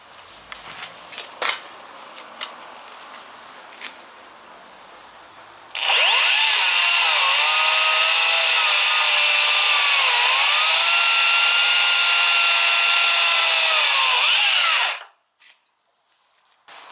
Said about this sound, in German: schneide ich jetzt mal kurz den einen Ast hier mit der kleinen Akkusäge ab